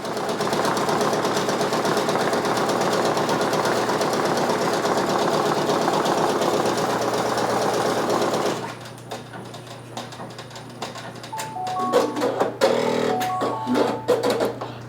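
Brother Persona PRS 100 embroidery machine stitching with a loud, steady mechanical hum that shifts to a quieter, uneven clatter of needle strikes partway through.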